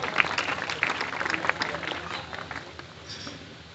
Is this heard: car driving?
no